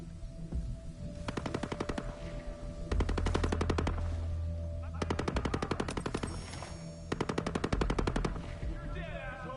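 Gunfire in the video game Ghost Recon Breakpoint: repeated loud bursts of rapid automatic fire, several rattling volleys separated by short pauses, with a low rumble under part of it.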